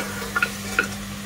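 A spoon stirs coriander powder into frying mutton rogan josh, a Kashmiri curry in a pan, giving a few light clinks and scrapes over a low steady hum.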